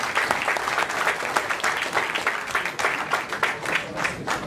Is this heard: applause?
yes